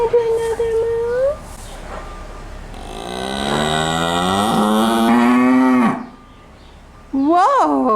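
A cow on a farm gives one long, loud, close moo lasting a few seconds, with a short low call before it and a brief rising call after. A person talks briefly around it.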